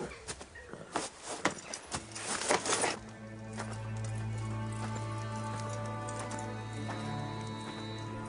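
Horse hooves clip-clop rapidly on hard ground as riders set off, the beats fading after a few seconds into a low sustained musical drone.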